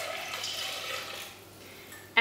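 Filtered water poured into a soup pot for a Thai green soup, giving a steady splashing pour that fades after a couple of seconds, followed by a brief knock near the end.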